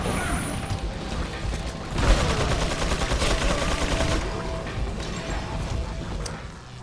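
Gunfire in the video game Resident Evil 4 rattles in a dense mechanical burst, with clattering shots and metallic action noises layered over steady game ambience.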